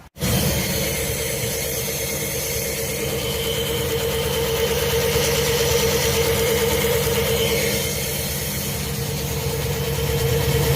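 A car engine idles close by, a continuous low rumble with a faint hum, running evenly for the whole stretch without any talking.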